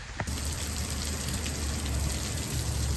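Steady heavy rain pours down close by beneath a tree, a dense continuous hiss with spattering drops and no voices.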